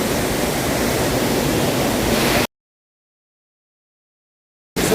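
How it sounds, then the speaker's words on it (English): A big waterfall on the Sabasaba River in Kenya roars as a steady, dense wash of falling water, loud and close. It cuts out abruptly midway, and the roar returns briefly at the very end. "It's a big waterfall."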